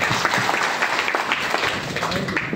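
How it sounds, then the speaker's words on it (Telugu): A crowd claps for a child in a burst of dense, lively applause that lasts throughout, with voices mixed in among the clapping. "చప్పట్లు కొట్టండి పిల్లకి"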